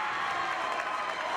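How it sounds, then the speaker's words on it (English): A high school boys basketball crowd cheers loudly and steadily in a gym, a dense roar of voices for a short burst. "22 gets a big cheer."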